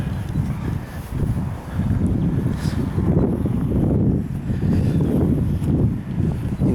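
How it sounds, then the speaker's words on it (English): Wind gusting outdoors on an open hillside near an old castle earthwork, a steady low rumble buffeting the microphone throughout with soft rustling and no clear talk. "It's a bit windy now."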